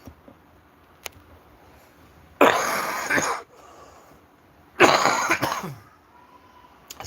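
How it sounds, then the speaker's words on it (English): Two harsh, chesty coughing fits, each about a second long and a couple of seconds apart, with near silence around them. "Still got that cough going on."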